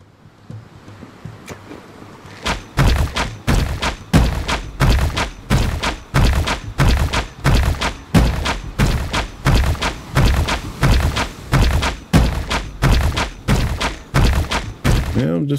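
Repeated heavy impacts as a crystal tower is smashed apart in the video game Kaku: Ancient Seal, a steady run of loud thudding hits roughly every half second after a quieter start, with no talk.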